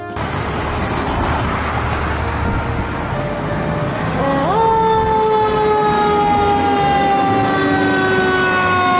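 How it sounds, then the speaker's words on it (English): Heavy engine rumble of an aerial ladder fire engine, then a loud siren starts wailing midway and keeps sounding, close and piercing over the motor. "Lift up fire engine。"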